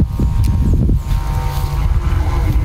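Very strong wind buffets the microphone outdoors, a loud, continuous low roar with gusty fluctuations and no voices.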